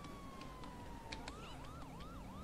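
Police siren from GTA V's LSPD:FR mod, starting as a slow falling wail and then switching to a rapid rising-and-falling yelp that repeats several times, steady and prominent over low game ambience.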